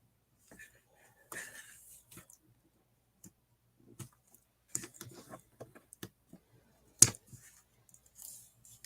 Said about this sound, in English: once again, we are going to put on our double-sided tape